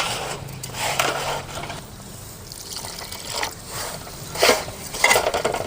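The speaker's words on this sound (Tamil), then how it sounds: "தயிரை ஊற்றி தண்ணி ஊற்றி நல்லா பிணைஞ்சி எடுத்துக்கலாம்." Curd and water being stirred together in a bowl into a dosa batter, giving soft wet sloshing and trickling with light clinks of a spoon against the bowl, close and moderately loud, with no talk.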